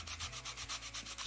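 Rhythmic scrubbing of a sanding block against a toy teddy bear in the game Toy Tinker Simulator, with about nine quick, even rasping strokes repeating close up and steady with no talk.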